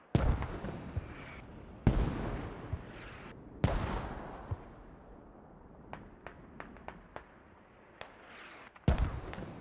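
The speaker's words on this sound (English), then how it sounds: "I feel like this guy's mortaring everything" Mortar fire in the game Squad lands as scattered heavy booms with long decaying tails, several loud impacts spaced across the span and a cluster of fainter distant cracks in between, with no talk heard.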